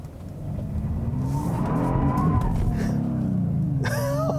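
A 2018 Genesis G80 Sport accelerates at full throttle, its engine rising in a loud, sustained drone close to the cabin before a brief shift near the end. A voice speaks faintly underneath.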